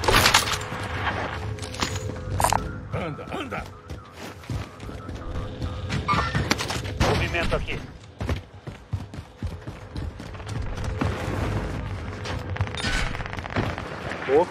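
Gunfire in the shooter Warzone: sharp shots crack out in scattered bursts and rapid volleys amid game effects and a busy, noisy mix.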